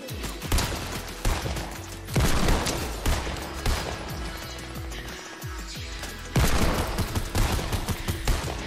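Rapid gunfire in the video game Fortnite, with dense bursts and volleys of shots and crashes rattling on and off across the clip, loud and continuous with brief lulls.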